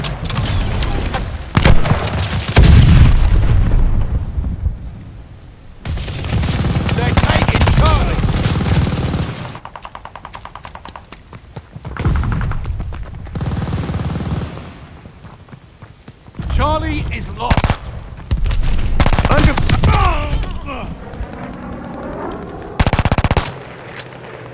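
Automatic and single gunshots crackle loudly in the Call of Duty: Vanguard video game, coming in dense bursts separated by brief lulls, with explosions and shouted game voices mixed in.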